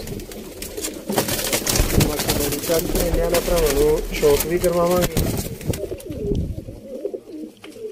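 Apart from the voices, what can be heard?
Teddy breed pigeons cooing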